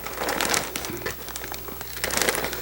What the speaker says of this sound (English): I'm going to put them into the 1 gallon plastic bag.